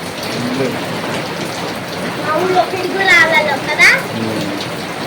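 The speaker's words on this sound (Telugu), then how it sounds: "ఇది మా పైప్ నుంచి రెయిన్ వాటర్ వస్తున్నాయి" Heavy downpour with rainwater pouring out of a pipe, a steady close hiss and splatter, while children and adults talk over it.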